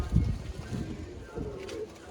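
Pigeons in a breeder's loft give soft, low cooing close by, with some rustling and movement around them.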